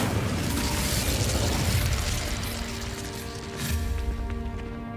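An Incendio fire spell is cast in a wizarding video game, giving a loud, roaring whoosh and crackling burst of flame up front that settles into a steadier, lower-energy hum with a brief flare near the end.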